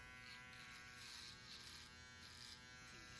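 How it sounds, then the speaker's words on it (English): Electric hair trimmer buzzing steadily against the back of the scalp while cutting a skin fade, a close, continuous motor drone with slight swells as the blades move over the hair. "We are making the connection on the back using the trimmer"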